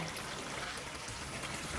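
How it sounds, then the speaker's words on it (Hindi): Water poured into simmering chicken korma gravy for a Dawat-style Eid curry, a steady continuous pouring and trickling wash heard alone, fairly close and even in level throughout. "जितना हमें ग्रेवी चाहिए उस हिसाब से हम इसमें पानी डालेंगे।"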